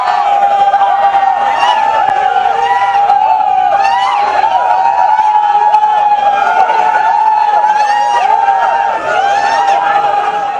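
A large, dense crowd shouts and clamours continuously around a police vehicle on a highway, loud and close, with overlapping cries and whoops rising and falling throughout.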